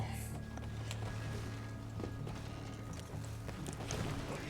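Horse hooves clip-clop in a steady trotting rhythm in the Red Dead Online video game, moderately close under a low mechanical hum and faint background noise.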